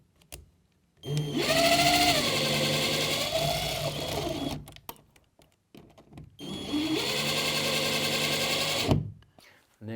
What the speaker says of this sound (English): Take my screwdriver.